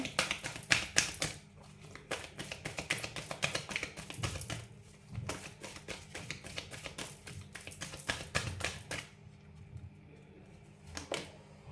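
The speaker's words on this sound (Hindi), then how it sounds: "एक कार्ड और ले लेती हूँ मैं" Tarot cards being shuffled and drawn, with a dense run of soft papery taps, flicks and riffles through most of the stretch that thins out near the end, fairly close and quiet, with no speech.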